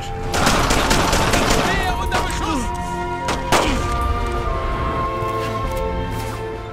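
Gunfire from the World War II shooter Brothers in Arms: Earned in Blood comes in loud, rapid bursts and sharp single shots over a dense game soundscape, with a voice mixed in.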